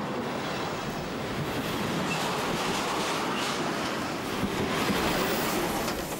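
Romanian-built DR class 119/219 multi-purpose diesel locomotive hauling freight, giving a dense continuous rumble with rolling wheel noise and faint squeal, steady and fairly loud throughout.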